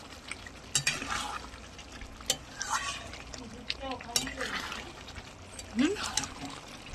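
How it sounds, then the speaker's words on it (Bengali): Chicken meat stir-fried with garam masala and chilli in a pan, giving scattered sizzles, scrapes and stirring clatter with liquid trickles, moderately close, while a voice talks over the cooking. "এই মাংস কষাচ্ছি, ভালো করে মাংস কষি"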